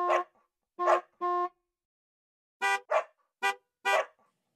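Short harmonic honks and barks trade off in two bursts: three tones, a pause, then four more, close and clear with no talking.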